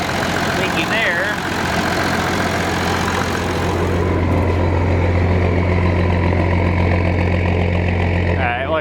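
A Massey Ferguson 760 with hard-starting trouble and a leaky fuel line runs loud and close in a steady idle rumble, the tone shifting slightly partway through, with faint voices in the background.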